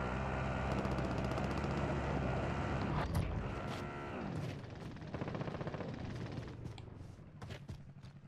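Gunfire in Call of Duty Warzone, a mix of scattered shots and a short automatic burst over a steady engine-like drone and game ambience, with no voices.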